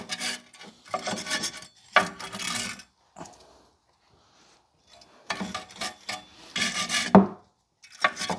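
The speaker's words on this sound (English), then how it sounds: "Wire brush to clean the rust on the backing plate." A wire brush scrubs rust from the rear brake backing plate of a 2006 Mazda 3 in bursts of harsh, close rasping strokes separated by short pauses.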